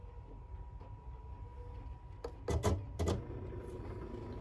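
A printer running while printing stickers: a low steady mechanical hum with a cluster of sharp clicks and clacks around the middle, close by and moderately loud, with no speech.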